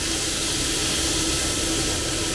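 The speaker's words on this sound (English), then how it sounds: "You can hear the sizzle" Steady broadband hiss of pork chops sizzling in a hot pan, continuous and close, with no talking.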